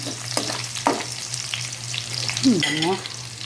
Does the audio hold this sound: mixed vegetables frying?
yes